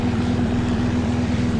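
Broken airplane in a video game flying with a steady propeller drone, loud and continuous with an even buzzing throb, no voices.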